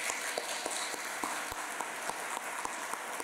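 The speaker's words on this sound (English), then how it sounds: "How about a round of applause for that?" Steady crowd clapping, a dense wash of many hands applauding at once, fairly distant and continuous.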